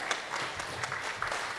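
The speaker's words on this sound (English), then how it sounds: "Can we please give them a huge round of applause?" Audience applauding after a panel discussion at a business conference, a short burst of steady clapping with no one talking over it.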